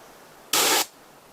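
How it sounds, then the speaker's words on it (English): A single short, forceful hiss of an unfired, still-good can of bear spray, lasting about a third of a second against quiet background. "I'll spray the unfired, still good can."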